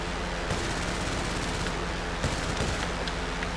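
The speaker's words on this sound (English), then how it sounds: "And the machine guns are decent defense." Machine guns on a P-45 Nokota fighter plane firing in GTA: a continuous, dense rattling burst that stays steady throughout under a broad roar of engine and wind noise.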